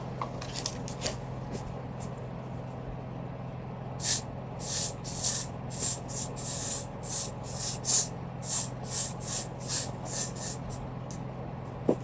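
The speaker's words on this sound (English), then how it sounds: "You're supposed to spray on your hairline." A series of short hairspray bursts along a wig hairline, about a dozen in quick succession, close and fairly loud over a quiet room hum.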